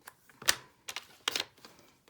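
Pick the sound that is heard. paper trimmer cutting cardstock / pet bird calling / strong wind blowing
paper trimmer cutting cardstock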